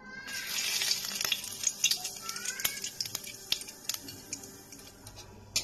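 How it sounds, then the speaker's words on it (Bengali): Whole cumin seeds and bay leaves sizzling in the hot oil left after frying potatoes for a desi chicken curry. A steady, close hiss runs throughout, with sharp pops and crackles scattered across it and no voices. "এবার এই আলু ভাজা এই তেলের মধ্যেই আমি গোটা জিরে আর তেজপাতা ফোড়ন দিয়ে দিচ্ছি।"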